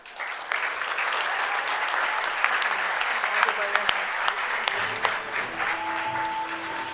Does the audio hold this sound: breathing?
no